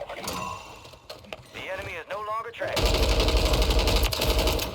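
Rapid automatic gunfire from Warzone, a dense and loud rattle of shots that fills the last two seconds. Before it come clicking and mechanical handling sounds, along with a whooshing swoop.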